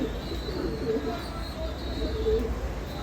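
Pigeons of a good bloodline cooing softly and steadily in a loft, with a constant background hum and a voice speaking at times.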